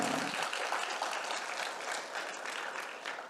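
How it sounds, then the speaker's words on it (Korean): Congregation of children applauding during a church sermon, a dense steady wash of clapping lasting throughout, fairly close and even in loudness. "우리 애기들 박수 한번 해주세요"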